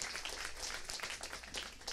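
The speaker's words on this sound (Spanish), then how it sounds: "Un aplauso, ajá, sí se puede" Audience applause at a talk, a steady wash of many hands clapping at moderate distance, continuous and fairly even throughout.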